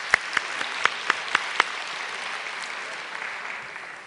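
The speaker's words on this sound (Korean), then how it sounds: "우리 박수로 좀 지금까지 수고해 주셨는데 격려해 주시기 바랍니다" A church congregation at a Wednesday worship service gives steady, moderately loud applause, with a few sharp individual claps standing out early before the clapping settles into an even wash.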